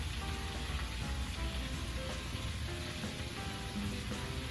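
Cabbage cooks down in a pot with a constant, even sizzling hiss that holds at a moderate level without pauses or voices.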